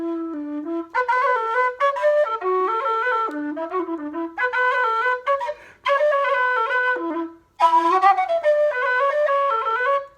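A low, breathy Susato Kildare low D tin whistle plays a lively melody alone, with quick ornamented notes and short pauses between phrases.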